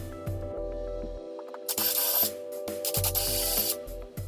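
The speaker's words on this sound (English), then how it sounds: "Next, you want to drill the 2 1/4" holes." A power drill boring 2 1/4 inch holes into a wall to mount a disc golf display, with loud bursts of whining, grinding drilling separated by short pauses as the motor starts and stops.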